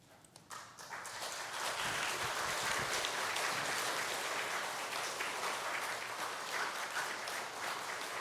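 A Sunday worship congregation applauds steadily for a visiting pastor as he comes forward. The clapping swells after a brief start and holds a dense, even roar for about seven seconds.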